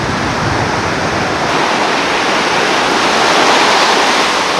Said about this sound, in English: Long surf.